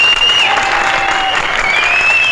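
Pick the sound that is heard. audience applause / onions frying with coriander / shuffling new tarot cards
audience applause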